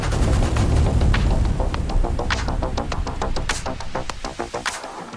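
A rifle volley on command, heard as a loud, dense burst of overlapping sharp cracks and rumble that gradually thins out and fades.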